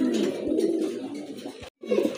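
Several pigeons in a loft coo repeatedly in low, rolling bursts close by, with a brief silent gap before the cooing resumes.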